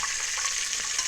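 A hamburger sizzles and fries in a hot pan, with a steady, bright crackling spatter that stays close and continuous throughout, with no talking.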